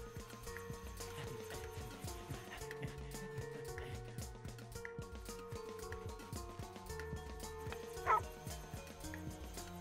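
A cute little cartoon dog gives a single short, sharp yip near the end, over a busy backdrop of steady cartoon music and effects.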